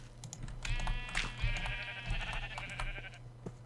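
A Minecraft sheep gives one long, wavering bleat in the game, with soft computer keyboard typing and clicks around it and a steady low hum beneath.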